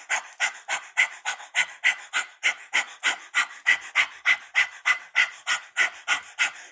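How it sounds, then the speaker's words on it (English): Rapid rhythmic panting breath of fire across the tongue in kundalini yoga, a steady stream of about twenty-five quick, close breathy pulses with no talk. "it's a breath of fire across the tongue. So that's our panting breath"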